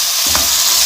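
Chicken pieces fry and are stirred in a pan for hot and sour soup, a loud steady sizzle with a brief scrape of the spoon midway, close and continuous.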